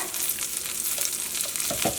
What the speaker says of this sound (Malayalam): ഇനി നമുക്ക് ഈ നെയ്യിലിട്ടിട്ട് ഈ പരിപ്പിനെ നല്ല ചൊന്ന കളറാക്കിയിട്ട് നമ്മൾ വറുത്തിട്ടെടുക്കണം